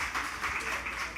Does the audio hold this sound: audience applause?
yes